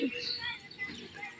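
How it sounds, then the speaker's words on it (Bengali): Small birds chirp in trees close by, with faint high tweets scattered through a short stretch over a soft low background. "তো পাখিগুলো কিচিরমিচির করতেছে"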